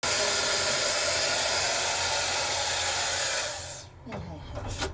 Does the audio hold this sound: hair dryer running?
yes